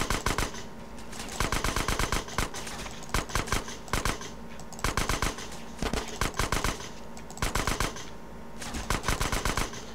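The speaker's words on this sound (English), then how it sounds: "someone has a combat shotgun" Gunfire rattles constantly in GTA San Andreas, rapid loud bursts of shots in repeated clusters across the whole stretch, with a combat shotgun among the weapons.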